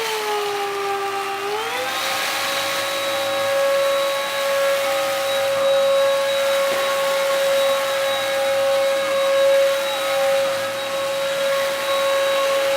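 Black and Decker 2-in-1 smart tech vacuum running on carpet with crushed cereal pieces: a loud, steady motor whine that climbs in pitch as the roller engages, then holds an even drone throughout.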